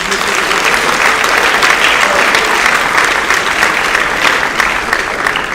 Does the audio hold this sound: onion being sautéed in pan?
no